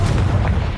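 A Confringo blasting spell in Hogwarts Legacy goes off as a short, loud, booming explosion with a deep rumbling low end, heard up close and alone.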